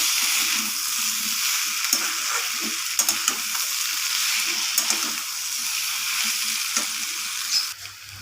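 Soybean curry with chopped coriander leaves being stirred in a pan, a steady close sizzle with scattered soft scraping strokes of a spoon throughout, easing off near the end.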